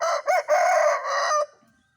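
A single loud rooster crow, nearby and clear, rising then holding before trailing off into quiet.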